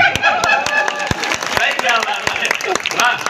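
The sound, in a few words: audience clapping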